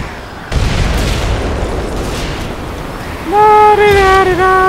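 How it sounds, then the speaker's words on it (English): A grenade explodes in the Ghost Recon Phantoms shooter as a loud boom, then a rumbling burst under steady game noise, followed by a sustained tonal ringing like a tinnitus whine after the blast. "Grenade!"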